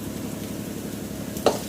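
Ginger garlic paste fries in hot oil in a pan for an egg kuzhambu, a steady soft sizzle with stirring scrapes and one sharper clink of the spoon near the end, no talking.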